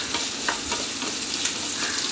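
Small onions sauté in hot oil in a pan for fish kuzhambu, giving a steady, dense close sizzle with faint stirring scrapes throughout.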